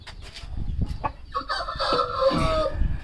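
A backyard flock of chickens clucks softly in short bursts before a rooster lets out a loud, drawn-out crow close by, with no talking.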